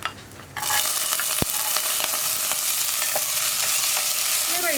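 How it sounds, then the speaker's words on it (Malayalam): Raisins and cashews fry in a pan with a loud, continuous sizzle, while a spoon stirs and scrapes through them at close range. "ഈ റേസിൻസ് ഒന്ന് വീർത്ത് വരുന്നത് വരെ നമുക്ക് ഇളക്കി കൊടുക്കാം."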